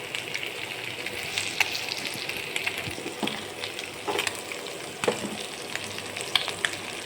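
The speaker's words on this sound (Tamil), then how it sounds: "அந்த மிதமான சூட்டில் இருந்தால் தான் இது வந்து கொஞ்சம் நல்லா அடியில் பிடிக்காமல் நல்லா ஃப்ரை ஆகும்" Chicken pieces frying in oil over medium heat produce a continuous crackling sizzle with scattered pops and spits, fairly close and without talk.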